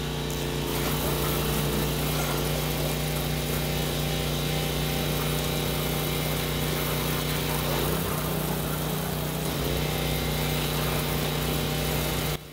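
Pressure washer rinsing down a house after a sodium hypochlorite wash, a steady droning engine hum with continuous hissing spray, loud and unbroken throughout, with no voices.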